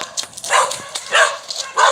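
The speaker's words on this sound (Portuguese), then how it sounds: "O cachorro me acuou." A dog near a school gate barks and yips at a person, sharp bursts coming in quick succession at moderate distance.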